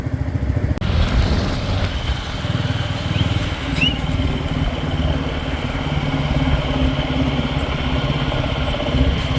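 Royal Enfield Classic 350 motorcycle cruising on a highway, a continuous low thumping engine drone with steady wind rush, loud and close throughout, with no speech.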